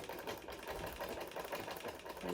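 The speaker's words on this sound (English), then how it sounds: "So I'll be stopping on 4 inches. And there, so I'll backstitch." A sewing machine runs steadily and close up while backstitching fabric for a Yoruba iro and buba outfit, its continuous motor whir and rapid needle chatter filling the short stretch without talk.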